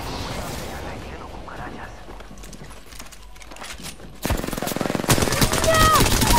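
Automatic gunfire in a first-person shooter match: quieter scattered shots early on, then loud rapid bursts kick in partway through and grow denser, while a player talks over the action.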